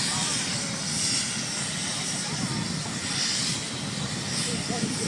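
An emergency helicopter flying overhead gives a steady, distant whooshing engine and rotor roar mixed with broad hiss, continuous for the whole stretch with little change in loudness.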